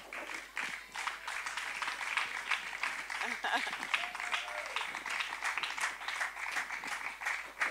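A church congregation applauding during a service: steady, dense clapping from many hands runs throughout, with voices and a brief sung or called tone mixed underneath.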